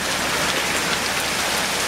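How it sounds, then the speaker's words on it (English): Heavy, steady high desert rain pours down in a dense, continuous hiss, close and loud with no breaks. "Good rain."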